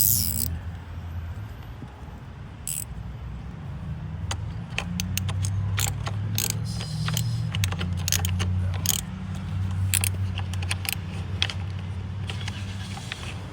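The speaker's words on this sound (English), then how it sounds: "So we use 10mm up here, 10mm ratcheting combination wrench" Metallic clicking and ratcheting from a 10mm ratcheting combination wrench tightening a bolt on a car during battery and alternator work, a burst of sharp ticks over a low engine-like hum, close by.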